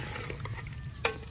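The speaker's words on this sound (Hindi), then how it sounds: "अब इसको जो है ना भूनते हैं कुछ देर" Mutton pieces stir and fry in a pot, a steady close sizzle with scraping stirs and one sharp clank of the spoon near the end, with no talking.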